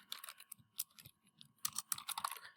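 Typing on a computer keyboard to enter numbers while programming an ESP32, with irregular bursts of close, crisp key clicks separated by short pauses.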